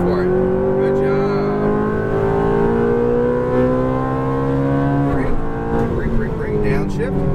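A Ferrari F430 engine on a race track revs and pulls through a long climbing acceleration, its tone rising steadily. A brief shift dip follows before it builds again, heard from inside under an instructor's coaching voice.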